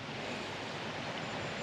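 Flowing water from a river near an Alpine campsite makes a steady, even rush that sits fairly close and stays constant throughout, with no voices.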